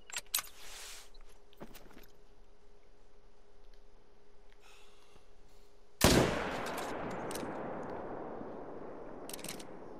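A single loud, sharp gunshot fired at a bull elk in a hunting video game, cracking out suddenly over quiet ambience, then trailing into a long, fading echo.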